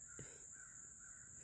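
A single crow gives one short, harsh caw outdoors, faint against a steady high background hiss and a constant buzzing tone, with no voices.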